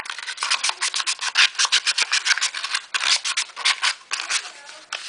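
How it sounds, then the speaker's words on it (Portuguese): Sandpaper rubbed by hand over an MDF box, fast rhythmic rasping strokes repeating steadily, close and fairly loud with no talk. "Lixa todos os lados, principalmente as beiradas e dentro da caixa também."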